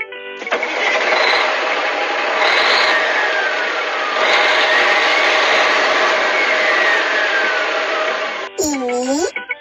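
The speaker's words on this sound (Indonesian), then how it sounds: "Ini truk semen." A heavy cement truck engine runs loudly and steadily with a grinding, churning drone for several seconds, followed by a voice at the end.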